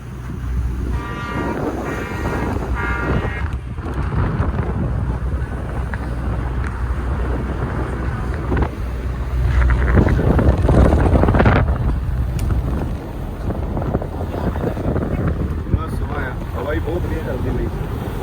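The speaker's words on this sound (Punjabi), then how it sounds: "ਬਹੁਤ ਵਧੀਆ ਠੰਡੀ ਹਵਾ ਚੱਲਦੀ ਪਈ ਆ" Cool wind buffets the microphone on a cruise boat ride in Istanbul, a steady loud rumble with gusts swelling in the middle, under someone talking and a low engine drone.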